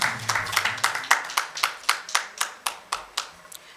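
Applause in a hall audience during a Nigerian forum on security, governance and climate change, heard as about a dozen distinct, fairly sparse claps in a steady rhythm that thin out over a few seconds, with no voices over them.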